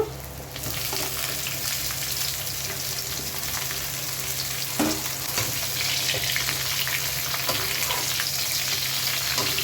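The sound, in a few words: cauliflower frying with browned onions in a pan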